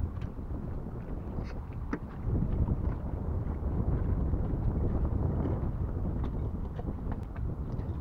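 A Raven 26 sailboat under sail, with steady wind rushing and water wash against the hull throughout, louder and fuller from about two seconds on, with faint knocks and creaks from the boat.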